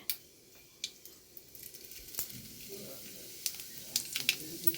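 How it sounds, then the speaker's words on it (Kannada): Mustard seeds and cumin sizzle in hot oil for a green gram sabzi, a faint steady fry punctuated by scattered sharp pops and crackles, while someone talks quietly over it. "ಎಣ್ಣೆ ಬಿಸಿ ಆದಮೇಲೆ ಸ್ವಲ್ಪ ಸಾಸಿವೆ ಹಾಕ್ಕೊಳ್ರಿ ಆಮೇಲೆ ಸ್ವಲ್ಪ ಜೀರಿಗೆ"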